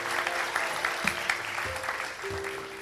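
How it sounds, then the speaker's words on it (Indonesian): Studio audience at an Indonesian television talk show claps steadily, a continuous wash of applause with a few brief tonal accents and fading slightly toward the end. "Lebih baik boleh tepuk tangan."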